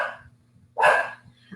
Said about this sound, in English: the dog's barking right now